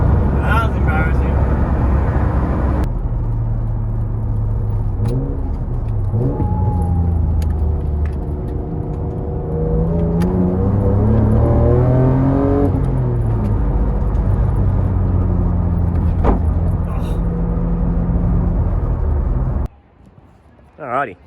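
Nissan R33 Skyline converted to manual transmission, its engine rumbling loud and close from inside the car, rising and falling in pitch through several gear changes and revs before cutting off near the end.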